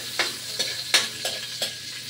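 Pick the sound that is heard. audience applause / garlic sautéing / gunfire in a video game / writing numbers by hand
garlic sautéing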